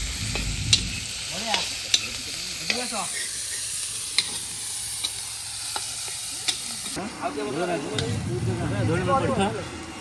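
Onion sizzles and crackles in a pan for fish curry, with occasional sharp clinks and a steady hiss that grows louder toward the end. People talk nearby.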